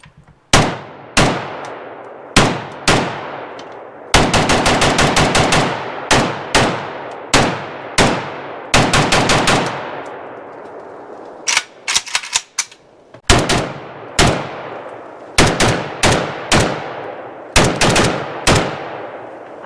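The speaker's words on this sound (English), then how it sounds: "Now Fox is going to try it in the M70 with the folding triangle." An M70 rifle with a folding stock fires Grom 7.62x39mm rounds outdoors, loud sharp shots spaced singly and in quick rapid strings, each with a ringing decay.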